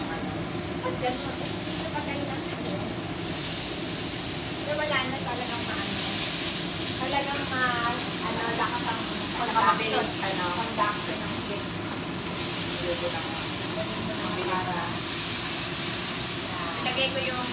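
Garlic and onion sizzle in a pan over high heat while munggo is being cooked, a steady loud hiss of frying throughout, with people talking over it.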